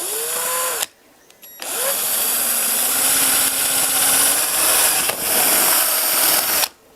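A power drill with an 8 mm bit bores dowel holes in wood in two bursts: a short whir, a pause with spin-down, then a long loud steady drilling run with small dips as the bit bites, ending abruptly.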